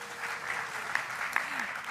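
A conference audience of school leaders gives a brief burst of moderate applause in a large hall, with soft, dense clapping.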